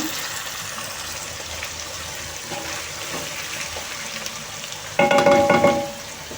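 Coarsely cut mushroom strips stirred into stewing sauerkraut and fresh cabbage for bigos, a low simmering sizzle, then a louder burst of scraping and clattering stirring for about a second near the end.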